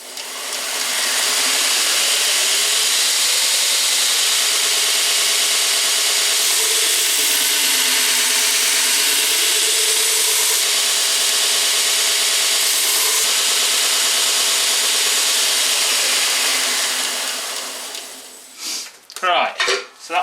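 A blade edge is ground on a 60 grit abrasive belt, producing a loud, continuous abrasive hiss and rasp that holds steady for about seventeen seconds before winding down, followed by a few brief knocks.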